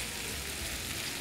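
Chicken wings sizzle steadily in a hot pan, left to sear on one side without turning, a continuous close frying hiss with no talk.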